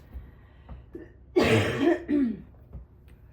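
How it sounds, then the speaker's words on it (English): A few harsh coughs in quick succession, close and loud, standing out against a quiet background. "Let me do a cough break."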